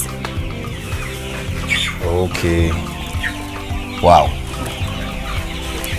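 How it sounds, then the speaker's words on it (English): Chickens on a poultry farm cluck close by, with several short squawks and cackles rising over a steady background hum while a person briefly speaks. "So please, these are my birds."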